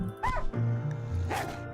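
A stunned dog in RimWorld gives short whimpering yelps, a few brief pitched cries close up over a low game background.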